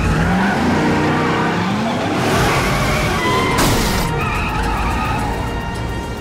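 A police car swings through a sharp U-turn with its tires skidding and squealing loudly, the engine roaring steadily underneath in a tense city pursuit.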